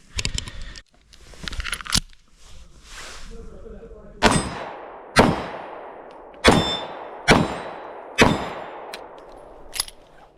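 A Sig P365XL Spectre Comp pistol fires five Hornady Critical Duty 135 grain rounds in a measured string of sharp, loud cracks, each followed by a short ringing decay, after some handling clatter at the start.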